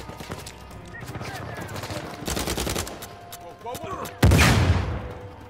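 Gunfire in the video game Uncharted 4, with bursts of rapid shots mid-clip and a loud blast near the end, set against ongoing game ambience.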